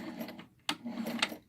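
An American Home sewing machine stitching in reverse while a sewing machine cover is made, giving a quick mechanical whir broken by two sharp clicks, close up and alone.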